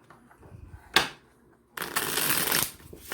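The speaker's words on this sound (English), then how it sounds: "So hard to shuffle." A deck of cards snaps briefly, then riffles in a long fluttering shuffle close by, with faint murmuring in the background during a card reading.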